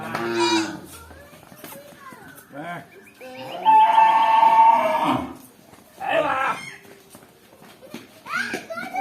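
Cattle on a village farm in Dhakuria, Jashore, fed on bran and grass, moo in several long, loud calls near at hand, separated by pauses and mixed with nearby voices.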